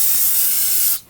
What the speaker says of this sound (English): I want to go ahead and use some spray solvent